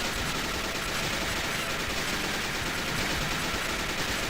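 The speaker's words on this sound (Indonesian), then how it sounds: "Tembakan beruntun." Dense, continuous bursts of rapid gunfire from the video game Metal Slug 2 roll on without a break, a steady loud barrage with no voices.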